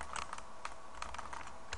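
Several quick, light computer keyboard key presses of a copy-and-paste shortcut, close and crisp in a quiet room with no talking.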